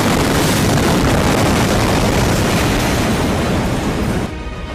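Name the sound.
large explosion in Beirut recorded by car dashcam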